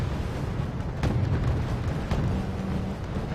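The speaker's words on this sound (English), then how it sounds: "So a lot of artillery falling in also" Artillery explodes in the Wargame Red Dragon naval battle, a constant low rumbling roar with a couple of soft thuds and pops rising out of it, no voices.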